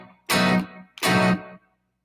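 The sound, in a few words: electric guitar shuffle strumming, downstroke into upstroke then upstrokes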